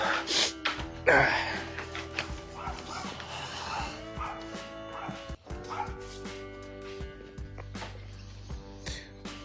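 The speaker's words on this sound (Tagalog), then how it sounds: "Ito yung mga aso namin dito." Two dogs bark and yip excitedly nearby, with whimpers mixed in, over a noisy room and a person talking in the background.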